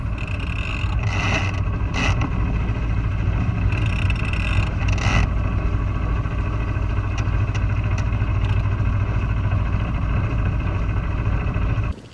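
A sailboat motoring under engine against the current, its motor chugging in a steady, continuous idle-like drone close by, with faint intermittent clatter and no talking.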